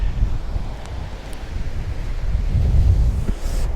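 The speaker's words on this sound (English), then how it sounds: "It's a little bit blustery." Strong wind buffets the microphone on a harbour arm while waves wash and surge below, a constant low roar that swells slightly toward the end.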